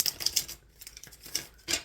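Tarot cards being shuffled, quick papery riffles and taps in uneven bursts, close and fairly quiet, with no talk.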